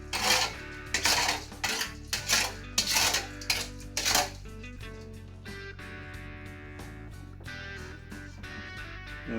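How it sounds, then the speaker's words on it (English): A soy sauce, vinegar and cooking oil marinade is stirred in a dish, with a run of bright, rhythmic utensil clinks against the bowl that settles into softer, continuous scraping and rattling. "we're gonna stir the marinade"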